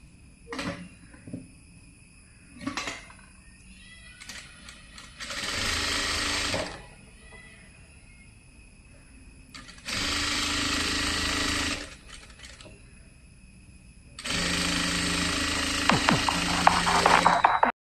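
Sewing machine stitching a folded one-inch sleeve hem on a slitted V-neck kurti, three loud bursts of rapid stitching a few seconds each, separated by quieter pauses with fabric handling and small clicks.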